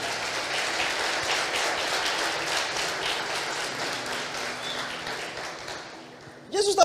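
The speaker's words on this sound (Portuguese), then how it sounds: "Você pode aplaudir a ele por isso?" A church congregation claps steadily in a loud, sustained round of applause at a Sunday service, fading near the end as a voice starts up.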